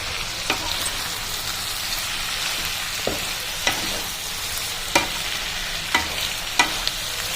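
Kudri mixture in a pan, stirred with a utensil while it fries, giving a steady sizzle broken by sharp scraping clicks at irregular intervals.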